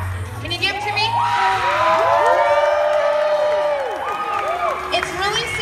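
Crowd at an FTC robotics state tournament semifinal, loud sustained cheering, whooping and screaming voices with scattered clapping, rising and falling in a big rowdy swell for several seconds.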